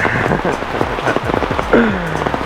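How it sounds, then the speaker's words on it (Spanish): Rain pours steadily in Donsol in the Philippines, a dense continuous wash of drops hitting surfaces, loud and close throughout with no voices. "nos va a despedir bien de lluvia"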